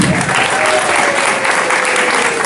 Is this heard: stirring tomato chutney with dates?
no